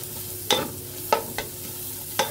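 Chopped garlic, ginger and onion fry for restaurant-style fried rice, a soft sizzle under four sharp spoon-on-pan scrapes of stirring, close up and with no talk.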